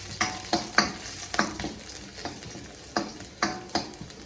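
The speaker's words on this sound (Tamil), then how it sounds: "அதை போட்டு முதல் வதக்குவோம்." Chillies and garlic sauté in a hot pan, with a soft sizzle and rhythmic scrapes and taps of a stirring spoon about every half second, fairly quiet and close.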